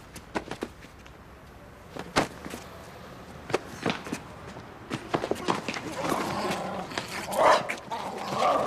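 A dog barks sharply at intervals during a scuffle indoors, mixed with footsteps and movement, while people shout and talk throughout.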